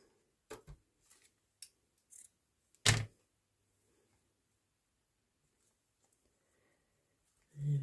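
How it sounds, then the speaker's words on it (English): Scissors trim the bottom edge of glued glazed paper on a crafted journal tag holder, giving a few short, separate snips and one louder crisp cut, close up in a quiet room. "And then trim off at the bottom."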